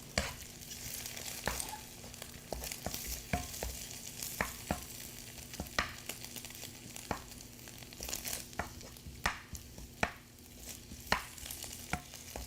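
Eggs and rice stir-fried together for shrimp fried rice in a Bangladeshi home kitchen: a steady close sizzle with repeated scraping and clattering of a spatula against the pan, no voices.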